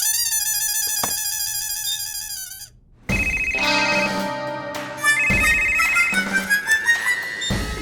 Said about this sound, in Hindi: मैं अभी जाकर इंस्पेक्टर ढिशक्याओं भाई को फोन लगाती हूँ।